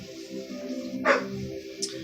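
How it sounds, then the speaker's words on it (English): A dog barks in the background indoors, giving a couple of short, faint, distant barks over quiet room tone. "Yes, that is my dog barking in the back."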